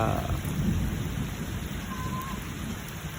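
Steady rain pours down with a low rumble of thunder underneath, dense and close, fading slightly over a few seconds.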